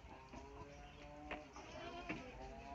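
Peranakan Etawa (PE) goats kept on a farm, with a few faint wavering bleats rising over a low background of other animal and farm noise, heard at a distance.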